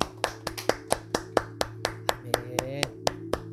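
A church congregation claps in steady rhythm, about a dozen sharp, evenly spaced claps sounding close over a sustained organ or keyboard tone.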